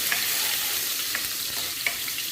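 Ginger frying in hot oil, a steady close sizzle with a few sharp pops of splattering scattered through.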